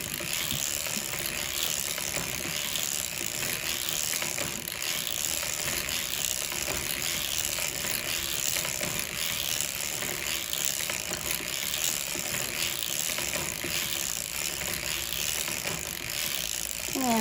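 A 1924 Gearhart circular sock knitting machine is cranked steadily, producing a continuous close mechanical clatter of needles and gears with an even, unbroken rhythm.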